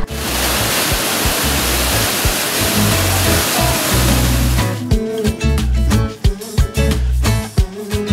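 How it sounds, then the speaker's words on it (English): A waterfall along the Seoul waterfront, a loud, steady broadband roar of falling water close by, changing partway into choppier splashing and rushing with rhythmic pulses. "I see what looks like a waterfall"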